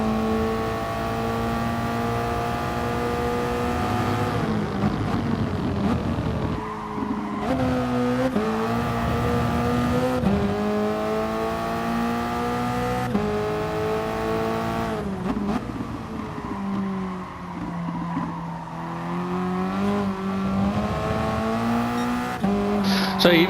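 Toyota race car in a racing video game at the Red Bull Ring, its engine climbing through the revs and dropping on downshifts into corners, with brief tyre squeal on worn tyres; a voice talks over much of it.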